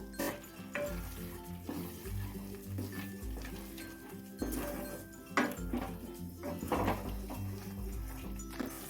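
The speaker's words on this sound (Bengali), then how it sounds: "গ্যাসের ফ্লেমটাকে লো টু মিডিয়াম করে দিয়ে মশলাটা কষিয়ে নিতে হবে" Masala cooking down in a pan with half a spoon of ghee over low-to-medium gas for a cauliflower malai roast, giving a steady soft sizzle with scraping stir strokes, close by, beneath a faint tonal background.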